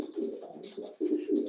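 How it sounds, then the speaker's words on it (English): A pigeon coos softly in a few low, rolling, throaty phrases, close by and otherwise quiet. "he's currently cooing."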